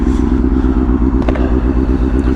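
A Honda CBR motorcycle on a back-road ride, its engine pulsing loudly and steadily as heard close from the saddle, with a thumping rhythmic exhaust beat and wind noise.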